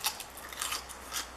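Crisp crunching bites into a crunchy wrap, several quick crackly bursts up close with brief pauses between them.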